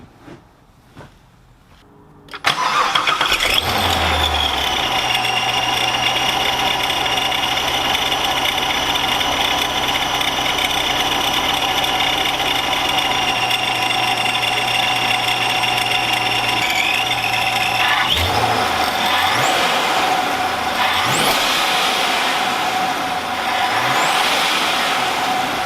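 A C7 Corvette engine fitted with a ProCharger supercharger cranks and fires up on a dyno, then settles into a loud, steady idle with a high supercharger whine and a few blips of revving near the end.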